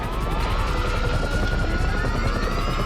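A video game helicopter's rotor thrums steadily and loudly, with a dense, continuous whine and rapid low pulsing throughout and no voices.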